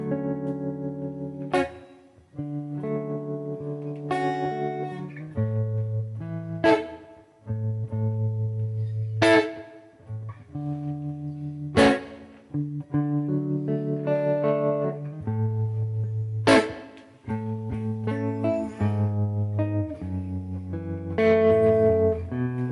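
Electric guitar played through a UAFX Fender Deluxe amp-modeling pedal, with clean, chiming chords and single notes in a slow, moody phrase and sharp pick attacks with ringing sustain, at moderate level and with no voices.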